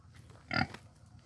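A native pig on a provincial farm gives a single short grunt, close and fairly faint against quiet outdoor background.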